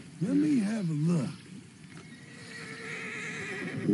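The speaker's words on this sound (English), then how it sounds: "Beautiful horse." A horse in Red Dead Redemption 2, an Appaloosa, lets out a loud wavering whinny up close, then falls quiet as a softer rumbling background and faint hoof movement continue.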